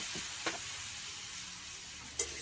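Chickpeas and a splash of water go into roasted chana masala, giving a soft steady sizzle with a couple of sharp spoon clinks against the pan.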